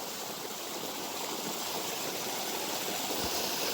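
Irrigation water pours into a sugarcane field in a continuous, close rushing flow, loud and steady with no voices.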